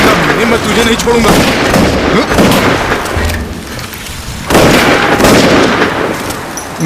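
Loud gunfire and booming blasts ring out in a film shootout, dense bursts of shots with a brief lull midway before the volley resumes, while voices can be heard in the background.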